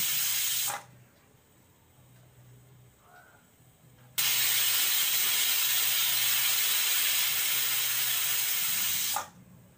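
Pressure cooker cooking chicken lets out two loud, sustained steam whistles, a brief one near the start and a long hissing blast lasting several seconds, with quieter low rumbling between them.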